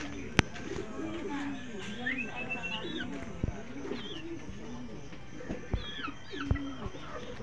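Pigeons cooing repeatedly near a rooftop loft during club training, soft rolling coos in a continuous background with occasional other bird calls and brief knocks.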